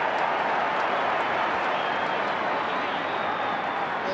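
A large Australian football crowd at a Fremantle Dockers versus Adelaide Crows AFL match gives a steady, roaring reaction, a dense wash of noise holding at one level for several seconds without a clear peak.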